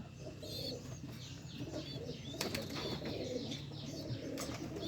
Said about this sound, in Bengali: এই যে ঘুঘুটা বেরোইছে ঘুঘুটা পোষা ঘুঘু